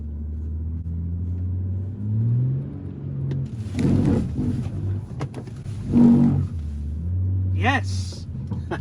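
A BMW M140i fitted with a limited slip differential driving on a skid pan: a loud engine rumble swells and revs, with brief tyre squeal near the end, and voices talking over it.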